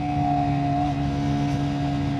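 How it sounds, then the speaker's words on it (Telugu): A KTM RC 160 motorcycle engine runs hard with a steady, close, humming drone that holds an even pitch for the whole stretch. "సో ఇంత హార్డ్ అండ్ ఫాస్ట్గా రేవ్ చేస్తున్నాను"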